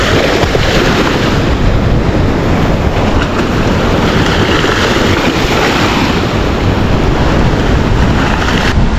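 Loud, continuous roar of ocean waves surging onto the shore at high tide in El Salvador, dense crashing surf and rushing water filling the scene without pause, with no voices.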